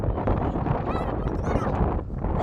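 A strong storm wind roars steadily and close into the microphone, a dense, unbroken rush that covers the whole stretch without pause.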